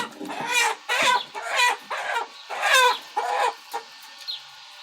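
Several chickens cluck in a busy, overlapping series of sharp calls around a hen on a nest, close by and fairly loud, with no talking.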